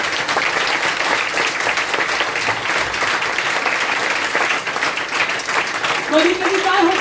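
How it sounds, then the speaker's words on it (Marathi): A church congregation at a Marathi sermon breaks into loud, sustained clapping. The applause fills the whole stretch, and a voice speaks toward the end. "येशू ख्रिस्तासाठी एक जोरदार टाळी."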